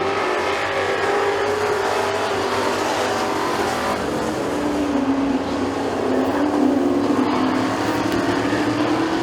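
Dirt track race cars roar around McKean County Raceway in a loud, continuous drone, engine pitch sweeping up and down as the pack accelerates down the front straightaway, with no talk over it.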